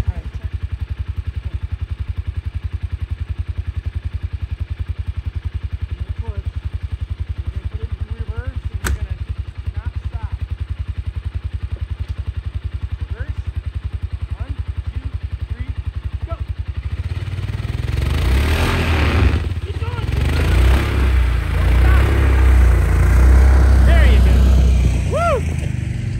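A vehicle engine revs as it backs out of a spot where it is stuck on a cabin property, idling low at first, then surging louder with rough rising revs toward the end while people talk.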